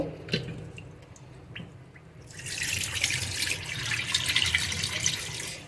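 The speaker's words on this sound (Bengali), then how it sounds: "খুব ভালো করে কচলে কচলে ধুয়ে নেব দুবার তিনবার করে জল দিয়ে ধুয়ে নেব" Chana dal being washed by hand in water, rubbed and rinsed in a bowl or sink: splashing, swishing water starts softly with a few drips, then becomes steady, louder running and sloshing for the latter half, with no talking.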